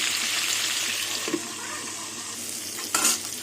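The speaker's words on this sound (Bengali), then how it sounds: "পটলগুলো ঢেকে ঢেকে লাল লাল করে ভেজে নেব" Pointed gourd (potol) fries in oil in a covered pan, a steady close hiss of sizzling with a couple of brief clinks from the spatula or lid.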